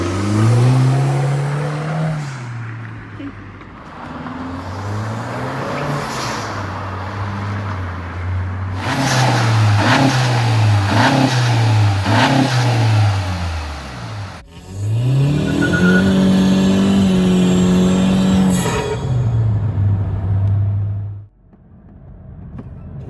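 Honda Civic 10th-gen turbo fitted with a blow-off valve sound plate revs repeatedly, with rising and falling engine pitch across several pulls, loud and close. Sharp whooshing releases follow the revs, and the engine finally cuts to near silence.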